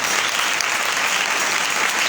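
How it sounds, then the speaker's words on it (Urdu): Enthusiastic applause from a church congregation celebrating Divine Mercy Sunday, a dense, steady wash of many hands clapping at once, loud and sustained without pause. "پرزور تالیوں کے ساتھ خدا کا شکر ادا کریں۔"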